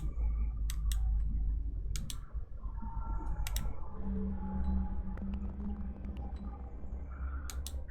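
Keys tapped in quick irregular clicks at close range during a Dead Secret mystery game, with a low steady hum and murmured room sounds underneath.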